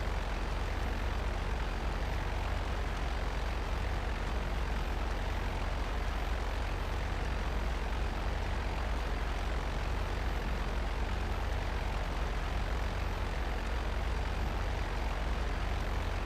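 A video game airplane engine in GTA Online drones steadily and evenly throughout, a constant propeller-like hum that never changes pitch or level, with no voices heard.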